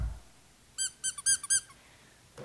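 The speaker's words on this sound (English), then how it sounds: "with a squeaky dog toy" A squeaky dog toy squeezed in a quick series of about five sharp, high squeaks, close and fairly faint against a quiet room.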